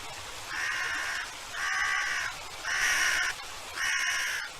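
Ravens in a snowy wilderness with a wolf nearby give four loud, harsh caws in an even rhythm, close and clear against a quiet background.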